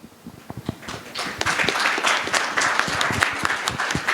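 An audience at a seafarer panel discussion applauds, with a burst of clapping that builds quickly into dense, sustained applause filling the room.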